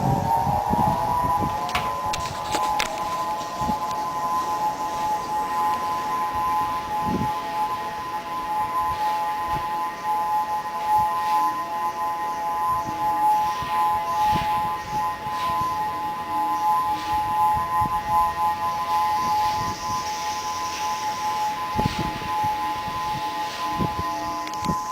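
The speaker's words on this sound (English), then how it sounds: "So the sirens are basically saying, you know, this is typhoon warning, please get to higher ground, stuff like that." Typhoon warning emergency sirens wail across the area, a loud sustained tonal blare with steady pitch bands, heard alone over faint background clatter and occasional thumps.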